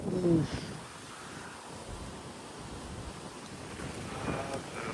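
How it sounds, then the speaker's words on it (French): Strong wind roars steadily across the microphone with a louder gust at the start and swells near the end, a dense broadband rush with no voices. "On a un puissant vent dessus."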